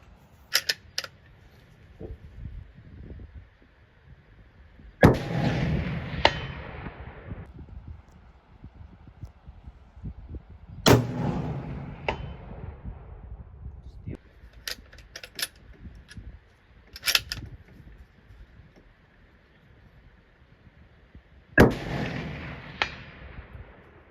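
Rifle shots fired through a Vortex Viper HS 4-16x50 scope at 100 yards, four loud separate cracks spaced several seconds apart, each with a booming tail, faint mechanical clicks in between, no talking.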